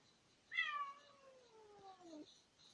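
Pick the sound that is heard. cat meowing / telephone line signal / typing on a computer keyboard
cat meowing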